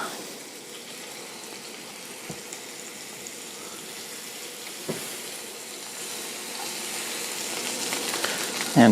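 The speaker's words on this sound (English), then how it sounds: "we'll go ahead and throw some butter in there." Morel mushrooms cooking in a pan with melted butter give a steady, close hiss and crackle, constant throughout with a few small pops, growing slightly louder toward the end.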